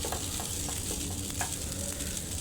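Half-boiled noodles fry in a pan and are stirred lightly, a soft, steady sizzle with faint scraping and stirring sounds, quiet and close.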